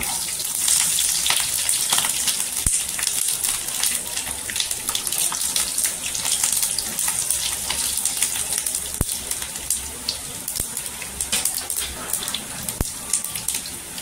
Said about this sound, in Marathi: इथे लसूण टाकायची, लसूण पण छान अशी तरतरली पाहिजे, गोल्डन कलर झाला पाहिजे लसणीचा